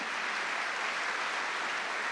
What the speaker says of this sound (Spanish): Sí, dale un fuerte aplauso al Señor.